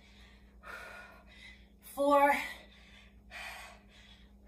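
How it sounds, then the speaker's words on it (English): Heavy, audible breathing from someone doing a dumbbell strength workout, loud gasping exhalations between counted reps, with the person counting aloud over it. "you hear me breathing, right?"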